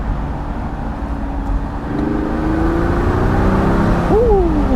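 2021 Mercedes E-450 convertible with a turbocharged engine and 9-speed transmission accelerating in Sport Plus mode, a loud close engine note rising steadily in pitch, with a quick shift and climb near the end.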